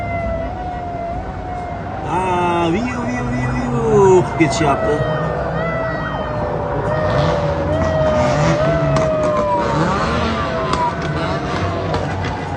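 A fire truck siren wails through a car meet gathering enthusiasts from Kyrgyzstan, Kazakhstan, Tajikistan and Uzbekistan in Namangan, rising and falling loudly over engine noise and crowd chatter while people talk nearby.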